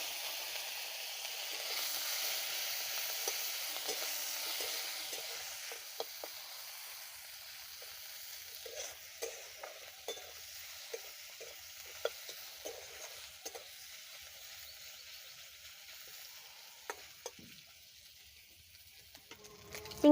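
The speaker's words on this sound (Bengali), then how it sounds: "চিংড়ি মাছটা আমার ভাজা হয়ে গেছে" Small shrimp fry in hot oil with a steady, close sizzle and hiss, broken by light clicks and taps of stirring; no voices are heard.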